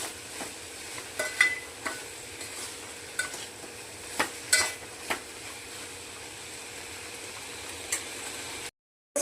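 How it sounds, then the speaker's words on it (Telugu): Cauliflower pieces fry in a pan, a low steady sizzle under repeated sharp scrapes and clinks of a spatula stirring, ending in sudden silence. "ఇప్పుడు ఇందులో కాలీఫ్లవర్ ముక్కలు వేయించుకొని అది ఉడికిన దాకా ఇంకా కలుపుతూనే ఉండాలి"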